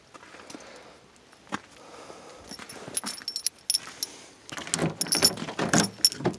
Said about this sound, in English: Where's my keys at?